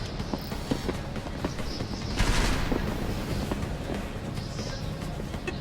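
Gunfire in Deus Ex: Mankind Divided, a dense, noisy burst of shots with a louder stretch in the middle, set against a steady wash of game background noise.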